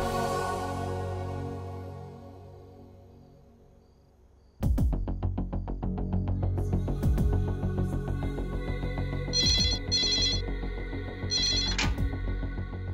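A telephone rings in a dubbed Bollywood drama scene: after a fading musical passage, repeated electronic ringing bursts come in, loud and close, over background music.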